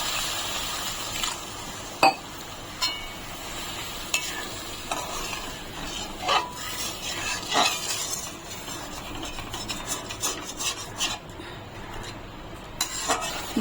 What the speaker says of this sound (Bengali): এখন আমি এর ভিতরে জল দিয়ে দিচ্ছি।